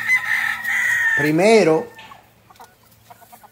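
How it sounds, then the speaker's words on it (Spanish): A fighting rooster crows once loudly and close, rising and falling, among hens clucking faintly afterward, with a short spoken word at the start. "oye, póngale un gallo porque las gallinas estaban teniendo encontronazo"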